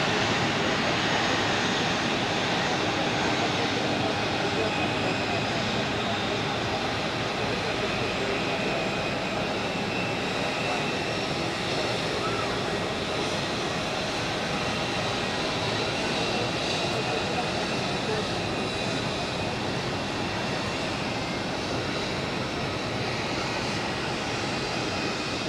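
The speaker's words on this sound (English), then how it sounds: "here we have an A330 of Swiss which has just landed" A Swiss Airbus A330 jet just landed at Zurich Airport, its engines producing a loud, continuous broadband roar that stays steady throughout with no clear pauses, with faint talk beneath it.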